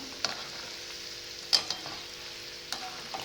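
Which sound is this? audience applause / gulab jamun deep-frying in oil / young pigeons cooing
gulab jamun deep-frying in oil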